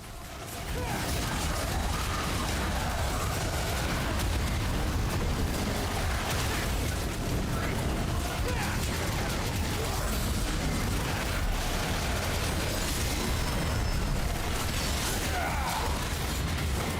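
Small exploding eyeball enemies burst in Devil May Cry 5 amid dense, continuous combat noise, with booms and pops layered over a loud, unbroken wash of action sound.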